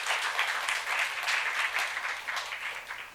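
A church youth-service congregation clapping together during a sermon: steady, dense applause from many hands, sustained and even throughout, with no voices over it.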